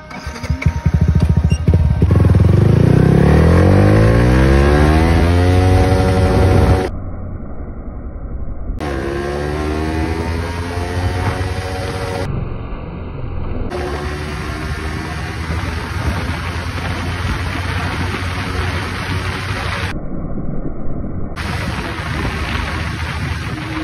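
A Yamaha R15 motorcycle accelerating hard through first, second and third gears, engine pitch rising in sweeps with brief dips at each shift, loud and close before easing to a steadier cruising hum.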